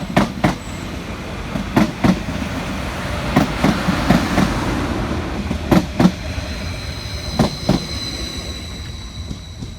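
Transport for Wales unit 231010 rolls into a valley station between Ystrad Mynach and Rhymney, with rhythmic clickety-clack wheel beats over rail joints repeating in pairs above a rumbling hum and faint high squeal. The train is loud and close, and no one speaks.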